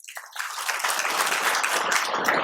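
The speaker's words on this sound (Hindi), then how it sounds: "जोरदार तालियां उनके लिए भी।" Loud, sustained applause from a large audience, building quickly and holding steady as many hands clap together.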